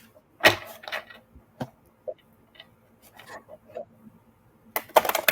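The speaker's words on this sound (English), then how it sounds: "I am shuffling the cards for y'all." Tarot cards are shuffled by hand: papery riffling bursts at the start and end, with scattered light taps and soft card slaps in between in an otherwise quiet room.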